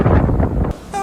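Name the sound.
strong wind blowing into the microphone outdoors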